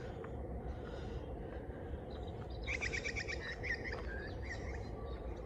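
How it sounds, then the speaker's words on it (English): An unidentified squawky bird gives a short burst of harsh, repeated calls at moderate distance over a steady hiss of wetland ambience at Wallsend Brickworks Park in the early morning, followed by a few fainter call notes. "I don't know what that bird was, the squawky one"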